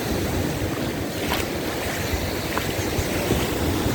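Sea waves wash along the crowded Vidrada beach in Odesa on a warm summer day, a continuous rushing surf mixed with wind buffeting the microphone, with no voices.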